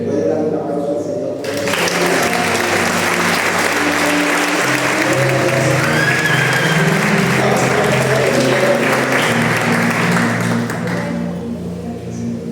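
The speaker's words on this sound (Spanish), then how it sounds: "¿Le puede dar un aplauso al Señor?" Loud, sustained applause from a church congregation fills nearly the whole stretch, rising abruptly and holding steady under sustained organ or keyboard tones and scattered voices.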